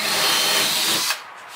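A power drill with a small bit bores through a jetboat deck during a rebuild, a loud steady whine for about a second before it cuts off, leaving quiet.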